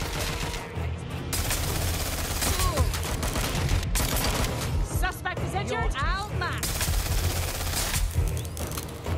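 Sustained gunfire in the game Watch Dogs: Legion, a near, loud run of rapid shots and bursts with a few crashing impacts, under a speaking voice.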